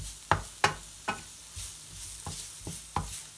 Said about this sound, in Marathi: फ्राय करून घेऊया चांगलं। मसाले सगळे लागले जातात त्या भाजीला चांगले।